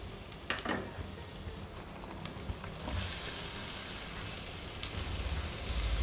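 Chopped onions sautéing in a pan for a vegetable cutlet, a soft steady sizzle with occasional stirring scrapes and clicks, fairly quiet and close, with no talk.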